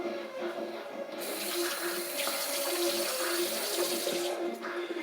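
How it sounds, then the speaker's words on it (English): A kitchen tap runs steadily into a sink while hands are washed during sandwich-bread preparation, with a continuous hiss of water that swells as the flow opens and splashes on, close and fairly quiet. "I need to wash my hands now"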